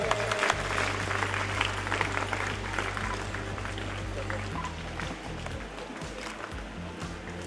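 Crowd at a school sports competition opening ceremony applauding steadily and fairly loudly, with a low hum underneath throughout.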